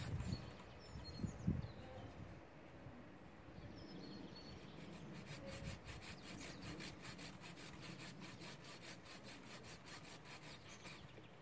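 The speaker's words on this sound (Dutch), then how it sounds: "Met de zaag." A hand saw cuts through wood while pruning, in steady back-and-forth strokes, a rhythmic rasping that continues for several seconds after a few knocks.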